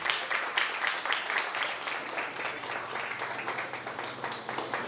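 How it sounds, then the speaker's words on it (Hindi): Steady applause from a church crowd at a Resurrection Day prize-giving for children, dense clapping filling the whole stretch at an even, moderate level with a low hum beneath. "भाई सफदर के लिए भी जोरदार तालियां"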